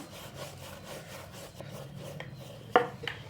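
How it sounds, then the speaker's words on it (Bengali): Egg paratha dough is rolled into a square with a wooden rolling pin on a dusted board, making repeated soft rubbing and scraping strokes in a steady rhythm, with one sharper knock near the end. "এখন চৌকো করে এইভাবে বেলে নিচ্ছি।"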